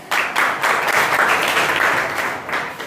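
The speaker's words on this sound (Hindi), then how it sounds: "चलिए इनके लिए जोरदार ताली होना चाहिए।" Loud applause from an audience for a participant at a motivational talk, a dense, sustained burst of clapping that swells quickly and holds steady before starting to thin near the end.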